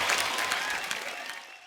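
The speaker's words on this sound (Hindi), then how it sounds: "आप सबकी जोरदार तालियों के बीच please welcome mister Arjun Rampal, Divya Dutta and Sharib Hashmi." A television comedy studio audience applauds to welcome guests to the stage, a brief, dense wash of clapping that fades slightly toward the end.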